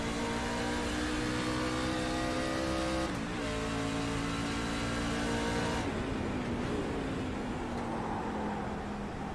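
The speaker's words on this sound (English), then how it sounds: "You can hear the gear differences between these two trucks." Racing trucks on a road course accelerate and shift gears, several engines roaring loudly together with rising whines that break at each gear change, continuous and close with no talk over it.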